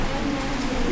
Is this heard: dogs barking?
no